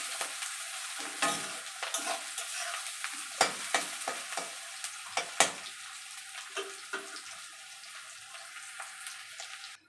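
Onions frying in oil in a pan as they are stirred until reddish, a soft steady sizzle broken by repeated scraping clacks of a spatula against the pan, close and alone.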